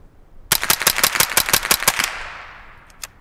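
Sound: suppressed .22 long rifle mag dump gunfire

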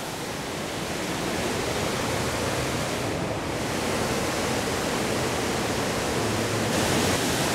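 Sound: small creek water flowing

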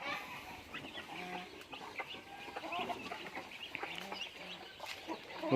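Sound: chickens clucking on a farm

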